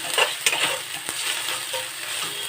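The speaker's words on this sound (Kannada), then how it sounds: "ಪೇಸ್ಟ್ಗಳನ್ನು ಹಾಕಿಬಿಟ್ಟು ನೀವು ಈ ಥರ ಮಿಕ್ಸ್ ಮಾಡಿಕೊಡಿ" Liver with ginger-garlic paste is stirred in a frying pan, a spoon scraping and tapping the metal in a few close strokes over a soft, steady sizzle.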